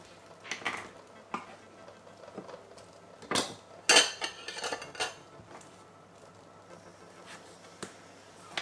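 Sharp kitchen knife slicing through beef for Jamaican-style curry, producing scattered close scraping and clinking strokes against a board, with a few louder cuts midway and quieter taps between.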